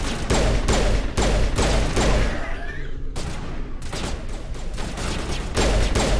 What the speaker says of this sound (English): Shooting him with the pistol.